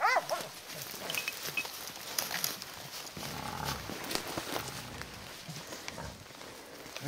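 Hunting dogs bark and bay during a hog hunt in the woods, a chaotic, overlapping chorus of yelps and barks, moderately distant with rustling in between.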